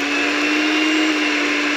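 An electric mixer beats cream cheese and eggs for a cheesecake, a loud, steady motor whine holding one pitch throughout without pause.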